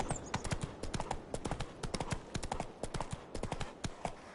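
Hooves of Roach, Geralt's horse in the video game The Witcher 3, galloping in a fast, steady rhythmic clip-clop, crisp and close, repeating evenly throughout with no talk.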